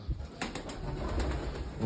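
Domestic pigeons cooing close by with a few sharp flutters of wings after a short flight, soft throaty calls over a low background hum.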